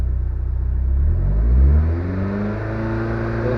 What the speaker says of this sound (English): Gonna give it a little bit of a rev.